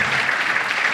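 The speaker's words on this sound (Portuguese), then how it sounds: "Uma salva de palmas para Flávio, o senador." Audience at a stand-up comedy show applauds a senator, a brief, dense burst of clapping from a full room.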